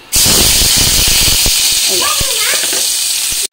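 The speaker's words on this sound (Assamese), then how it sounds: "এইখিনি পিয়াজ মই ইয়াত ধুনীয়াকৈ অলপ সময় ফ্ৰাই কৰিম" Finely chopped onions frying in a pan for aloo chop, a loud, steady hiss and sizzle that holds evenly from start to finish, close up, with faint clinks behind it and no voices.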